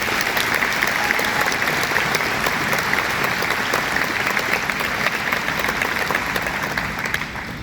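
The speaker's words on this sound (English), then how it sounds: "Can we please give the faculty of West High a resounding round of applause?" A large crowd at the 2024 Morristown West High graduation ceremony applauds the faculty with dense, sustained clapping that holds steady and begins to taper only at the very end.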